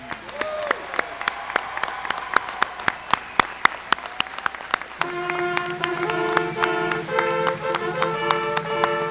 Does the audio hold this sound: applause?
yes